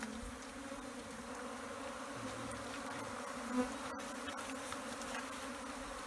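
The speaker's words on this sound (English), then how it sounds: "Ton of African killer bees. There's a hive right behind this tree." Dense, steady buzzing of a swarm of African killer bees around a hive behind a tree outdoors in Africa, continuous and close throughout with a brief louder buzz passing near the middle.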